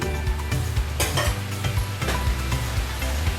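Garlic eggs being scrambled in a hot pan sizzle loudly and steadily, broken up by the scrape and shuffle of stirring throughout.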